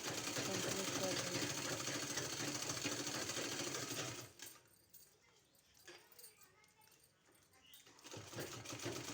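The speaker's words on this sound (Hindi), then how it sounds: "इस तरह से पूरे में सिलाई लगा के कंप्लीट कर" An electric sewing machine stitching a palazzo pant, a fast, steady mechanical whirring for about four seconds, then stopping, with quieter handling sounds before a short restart near the end.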